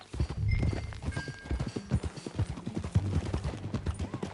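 Horse hooves clip-clop at a riding pace in Red Dead Redemption 2, a steady rhythmic trot close by with a brief whinny, fairly quiet and with no talk.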